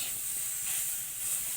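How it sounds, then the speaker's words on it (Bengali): Chalta, the elephant apple, sizzles steadily in hot oil as it is stirred, a continuous loud hiss of frying in a village kitchen. "তার জন্য আমি একটু তেলে নেড়ে নিচ্ছি"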